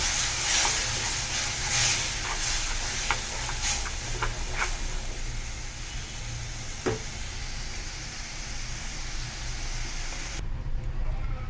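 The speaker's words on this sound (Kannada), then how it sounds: "ಇವಾಗ ಟೊಮೆಟೊ ಹಾಕ್ತಾ ಇದ್ದೀನಿ. ಇದು ಸ್ವಲ್ಪ ಚೆನ್ನಾಗಿ ಫ್ರೈ ಮಾಡ್ಕೊಳ್ಬೇಕು." Tomatoes fry in a pan for aloo gravy with a steady, close hiss and sizzle, broken by scattered crackles and a few spoon clicks.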